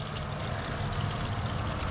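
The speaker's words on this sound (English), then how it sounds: "Nice little water fountain." A small outdoor water fountain splashes steadily, a continuous hissing, trickling wash of falling water heard close and even throughout.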